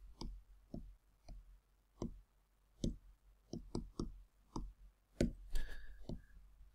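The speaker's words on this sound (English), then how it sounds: "And now we can type that into the calculator." A calculator's buttons are pressed for a cube calculation, producing about a dozen short, close, dry clicks at an uneven pace over several seconds, with no talking.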